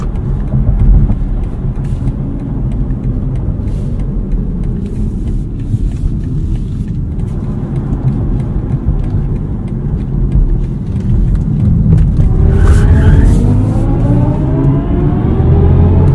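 A 2023 BMW i4 eDrive40 electric car driven hard and sliding with traction and stability control off, giving a steady loud road and tire rumble with whining tones rising toward the end, no voices.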